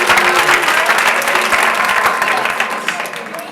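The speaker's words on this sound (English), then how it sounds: "I need to ask people to hold the applause" A packed room at a town Board of Education public comment session breaks into applause after a speaker's remarks: dense, loud clapping from many people that slowly thins toward the end, with faint voices underneath.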